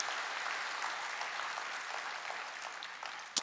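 A church congregation applauds at a Christmas thanksgiving service, a steady broadband wash of many hands clapping throughout, dense and even, ending with one sharper clap at the close.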